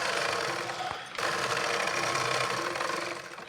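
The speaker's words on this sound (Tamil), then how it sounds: "இந்த மாதிரி நல்லா 1/4 இன்ச்சில் ஃபுல்லாக ஸ்டிச் பண்ணிக்கோங்க." A sewing machine stitches cloth along a quarter-inch seam, running as a steady, loud mechanical whir with a brief dip and pause near the one-second mark before resuming evenly.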